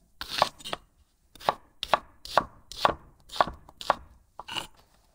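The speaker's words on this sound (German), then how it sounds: "Für die Soße schneide ich mir auch wieder ein paar Schalotten klein" A knife chops shallots steadily on a cutting board, about nine sharp crisp strikes in a loose rhythm, close up with no talking.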